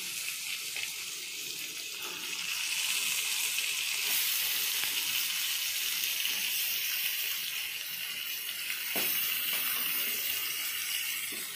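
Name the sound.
chicken added to sizzling ginger garlic paste in pan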